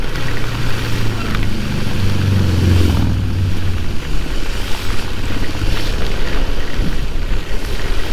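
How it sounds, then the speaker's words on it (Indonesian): Heavy rain pours during a ride on a Polytron Fox electric motorbike, a loud, constant rushing wash mixed with low rumbling wind and road noise, with no talking. "Gila sih ini hujannya sih. Epic banget hujannya."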